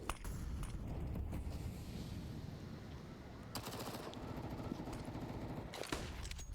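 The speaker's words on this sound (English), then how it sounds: "dupreeh decides he doesn't want to be overrun by the pistols, even though they are Glocks" Glock pistol fire in a pro Counter-Strike match on the Vertigo map at IEM Cologne 2022: quick bursts of rapid shots, fairly faint, in two clusters separated by quieter game ambience.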